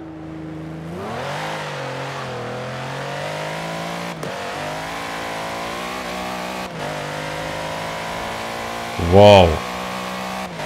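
A Mercedes SL65 AMG in the Forza Horizon 4 racing game holds a steady engine drone that climbs in pitch and revs through several gear changes, loud and continuous, with a brief exclamation from a player near the end.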